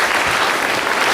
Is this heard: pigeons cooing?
no